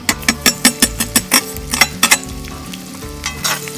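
Ginger, green chilli and garlic hit hot refined oil in a kadai, giving a loud, steady sizzle with a run of sharp metallic clinks and scrapes from stirring, strongest early and tapering off near the end.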